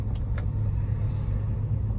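A Land Rover engine with low oil pressure idles steadily, giving a close, continuous low rumble with no talking.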